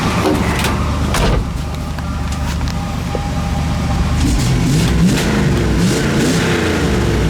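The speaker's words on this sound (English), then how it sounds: "Exhaust sounds really good." A 1966 Chevrolet Impala's engine revs loudly up close, its exhaust rumbling and rising in pitch, with a few sharp knocks early on.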